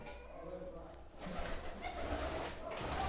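Homer pigeons cooing inside a pigeon loft, soft low coos close by and fairly faint, growing busier with a rustling background partway through; a voice may be speaking underneath.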